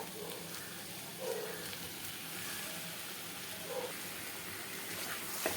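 Cleaned large prawns hit a hot pan and are stirred, giving a faint, steady sizzle with a few soft scraping clicks.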